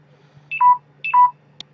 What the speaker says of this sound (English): that's my phone telling me it's got no battery left.